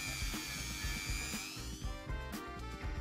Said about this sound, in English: A little polishing will make things look nice.